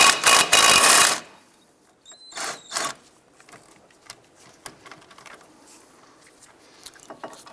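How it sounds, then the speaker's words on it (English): Brake caliper bracket bolts on a 2001-2007 Ford Escape being removed with an 18mm socket, a loud burst of ratcheting and rattling at the start, then a few clinks and light metallic taps at close range. "Using an 18mm socket, go ahead and remove the caliper bracket bolts."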